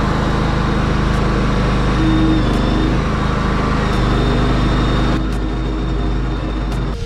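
A conveyor belt trailer rolls its load off, a steady loud mechanical drone with engine rumble and a faint high whine throughout, no talk.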